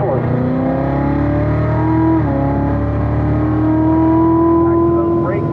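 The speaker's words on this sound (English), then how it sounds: "Smooth steering in, smooth steering out. Full throttle up to fourth." A race car accelerates hard at full throttle through the gears up to fourth, its loud rising engine whine dropping briefly at each upshift then climbing again, close and continuous with a voice over it.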